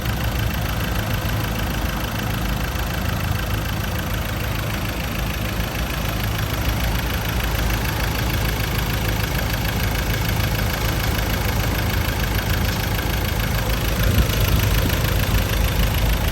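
A 2016 Ford Ranger FX4 Hi-Rider with a 2.2 engine idles in a steady, even rumble that stays close and constant throughout, with no one talking.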